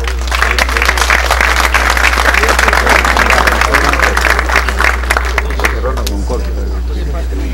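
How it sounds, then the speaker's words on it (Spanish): A crowd at a civil engineering week closing ceremony breaks into loud, sustained applause, dense clapping that fills the hall before thinning out near the end. "Nuevamente un fuerte aplauso."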